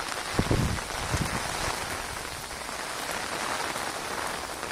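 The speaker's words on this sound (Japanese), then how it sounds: "もう大雨でね、真っ白。" Heavy rain pours steadily over an outdoor lookout in Nagasaki, a dense, close hiss of drops hitting surfaces that runs without a break throughout.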